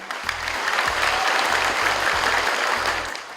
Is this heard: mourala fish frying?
no